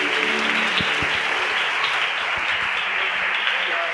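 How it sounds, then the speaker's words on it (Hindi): A church congregation claps for the Lord at a worship service, a loud sustained wash of many hands with some distinct beats, and a voice faintly underneath. "आइए प्रभु के लिए ताली बजाएंगे."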